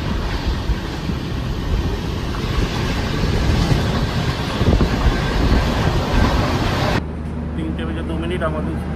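A Howrah to Bengaluru superfast express passenger train runs on rails, a loud continuous rumble and rattle heard from on board. The sound abruptly drops to a quieter, steadier hum near the end.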